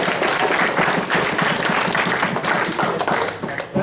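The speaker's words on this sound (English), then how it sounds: "Let's give a round of applause for Skyline Chili." An audience claps in a continuous burst of applause, a dense, fairly close patter of hands that holds steady for a few seconds before thinning slightly at the end.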